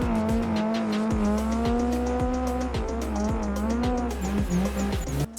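A drift car on a track holds its tyres spinning through a rollback, producing a loud continuous squeal over a steady, high-revving engine note that waves slightly in pitch, close up throughout.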